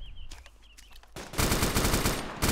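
Gunfire in the Arma 2 Wasteland game, starting with a few faint distant pops over quiet ambience, then a loud sustained burst of rapid automatic fire that fills the last second and a half, with no talk.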